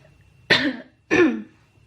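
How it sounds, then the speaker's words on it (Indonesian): Two separate rough coughs, close and fairly loud, about half a second apart, with quiet between them and no talking. "Sampai batuk aku."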